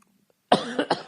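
A single harsh cough from a hair stuck in the throat, bursting out after a moment of near silence, close and fairly loud, with a quick follow-up hack.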